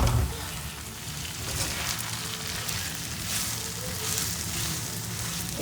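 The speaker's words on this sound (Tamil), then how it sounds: "நல்லா இதை வதக்கிக்கணும்." Grated ginger sautés in hot oil in a pan for a tamarind ginger pickle, giving a steady, close sizzle of dense crackling hiss that runs unbroken throughout.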